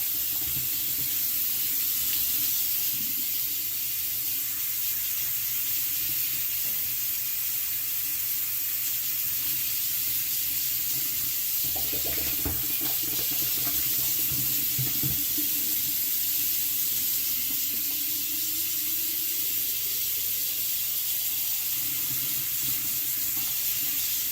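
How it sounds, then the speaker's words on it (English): Tap water runs steadily into a sink, rinsing soap out of a guinea pig's drinking water bottle, a constant close hiss with brief splashy changes in the middle as the bottle is moved under the stream. "once we kind of finish rinsing out all the soap from the bottle"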